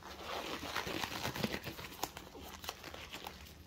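A glove is pulled on, giving close, soft crinkling and snapping rustles with faint irregular taps that go on for several seconds at low volume.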